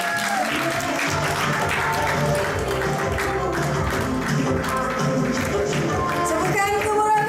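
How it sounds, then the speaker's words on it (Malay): An audience at a Malaysian motivational event breaks into loud, dense applause, many hands clapping continuously and close for several seconds, with a voice faintly present beneath. "Teruskan tepukan gemuruh anda"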